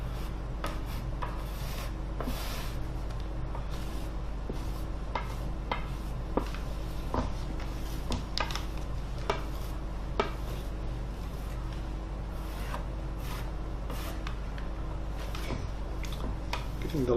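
A cheap plastic spatula spreads coating across an icon panel, with repeated scraping and rubbing strokes in an uneven rhythm, close and clear over a steady low hum.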